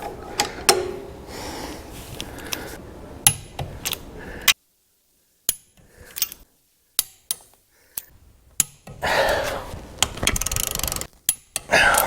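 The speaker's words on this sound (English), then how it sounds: "now I'm going to torque in a star pattern." A torque wrench tightens transmission bolts in a star pattern on a Tremec TKX 5-speed going into a Camaro: sharp metallic clicks and clanks come in separate bursts, with quiet gaps and some rattling handling noise.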